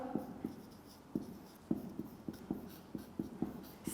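Chalk or marker writing on a board during a chemistry lecture, a quick series of close taps and short scratchy strokes in an irregular rhythm, with no talking over them.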